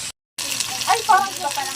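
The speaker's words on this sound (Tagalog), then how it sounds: "Double fry natin yun para gutong-guto." Chicken necks are double fried in hot oil, crackling and bubbling up close after a brief silent gap, with busy popping that swells in the middle.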